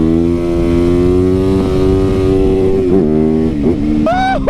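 A motorcycle engine idles loud and close with a steady rumble, then blips through several quick revs that rise and fall in pitch.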